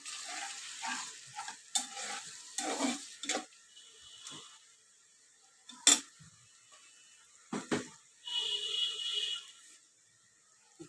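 Onion paste goes into a pan of potatoes and peas, bringing several close clinks and scrapes of utensil on metal between short bursts of sizzling frying, with quieter gaps in between.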